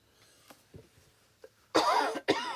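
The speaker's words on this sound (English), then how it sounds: "Pardon my cough." A person coughs twice in quick succession, loud and close, after a few faint breaths and small throat sounds.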